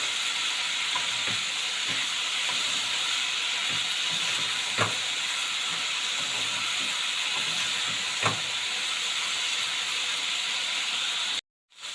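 Onions frying with turmeric and salt in a pan give a steady, close sizzling hiss for the whole stretch, marked by a couple of sharper pops, before it cuts out briefly near the end.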